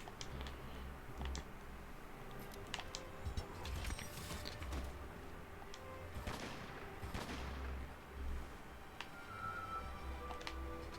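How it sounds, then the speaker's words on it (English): Gunfire from a 21-gun salute in the video game Monster Hunter World, a series of scattered sharp reports at moderate distance over a steady ambient bed, with irregular spacing through the scene. "The 21 gun salute."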